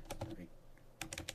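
Fingers tap a computer keyboard entering a user's name into a point-of-sale system, a quick cluster of close keystrokes, a brief pause, then another short burst of clicks.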